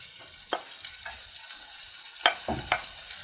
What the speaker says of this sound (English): And we're going to sweat the onion